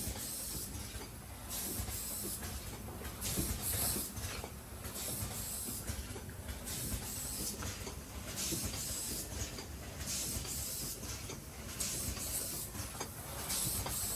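An automatic cellophane packing machine runs empty with no product, giving steady hissing heat-sealing and rhythmic mechanical cycling in repeated bursts at close range, no voices.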